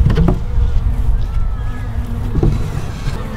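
Honeybees buzz steadily around an opened, calm hive worked without smoke, a dense close drone filling the clip with a few brief knocks, no talk.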